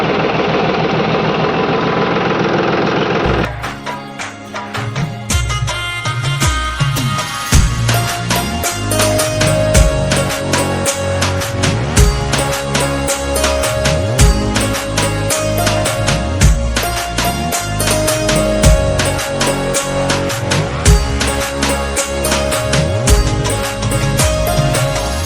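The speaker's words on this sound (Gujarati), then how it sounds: "રોટાવેટરની શરૂઆત કરી દીધી નવા રોટાવેટરની" A tractor fitted with a new rotavator runs steadily on a farm, its engine giving a loud, continuous, rapid rattling chug that starts abruptly after a few seconds of softer noise and then holds without a break.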